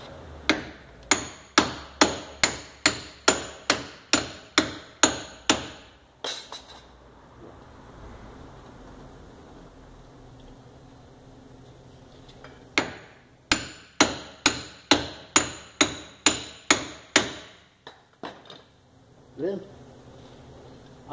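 A wheel hub is hammered into its bearing without a press, two long runs of sharp, evenly spaced metal blows close by, separated by a quieter pause and ending with a few scattered knocks.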